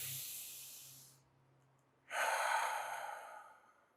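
A slow, controlled breath during an adult chair yoga class, heard as a soft, airy hiss that fades out, then after a brief pause a fuller, louder rush of air that gradually tapers, close to the microphone.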